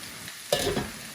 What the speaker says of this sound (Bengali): তিন চার মিনিট আমি ভালো করে নাড়াচাড়া করে একটু কষাইয়া নিই মশলা